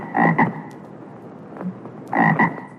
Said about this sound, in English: Those are my alarms. I get frogs.